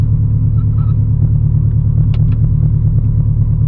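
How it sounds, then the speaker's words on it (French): A Ferrari with a stainless steel exhaust idles in a deep, steady rumble that holds constant throughout, with a few faint higher clicks over the low engine drone. "Échappement inox, ça fait un bruit de malade."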